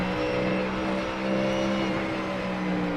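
A GT3 race car in a sim racing game at Silverstone drones smoothly with a steady engine tone, a sustained near hum holding a constant pitch with slight swells, and no talk over it.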